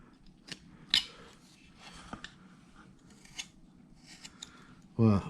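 A knife carving a wooden cowboy figure, face details: faint, short scraping and snipping cuts scattered across the clip at a quiet level, with a louder thump near the end.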